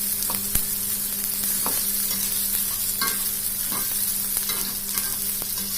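Onion sautéing in a frying pan for a sweet-and-sour gourami dish, a steady close sizzle with occasional soft stirring scrapes and no talk.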